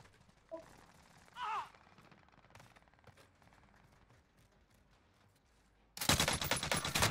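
Sustained burst of loud rapid automatic gunfire from an LMG in Call of Duty Warzone Rebirth gameplay, arriving suddenly after a quiet stretch of faint game ambience and brief scattered effects.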